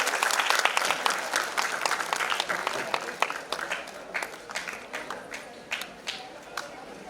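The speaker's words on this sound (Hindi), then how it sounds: "कृपया करतल ध्वनि से दीदी का स्वागत कर।" A crowd applauding, a dense patter of many hands clapping at moderate distance that gradually thins out.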